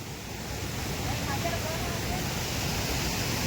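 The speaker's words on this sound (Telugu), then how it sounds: "నీళ్ళు ఎట్లా వస్తున్నాయి చూడండి ఏ ఖతర్నాక్ వస్తున్నాయి అసలు" Water rushes out of a village pond outlet in a steady, broad roar of noise that stays close and fairly loud throughout, with no clear talking.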